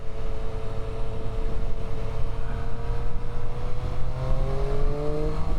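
A Triumph Street Triple 765 RS motorcycle pulls in third gear toward 80 km/h, its engine note rising steadily and loud under continuous wind rush, heard from the rider's position.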